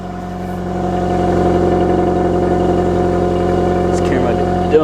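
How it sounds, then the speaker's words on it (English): A Nissan Sentra idles after a cold start on a snowy day, its steady engine hum swelling gradually into a slightly higher, sustained rev, heard up close with a brief sound near the end. "let warm up for a while and I'll rev it up for you a little bit"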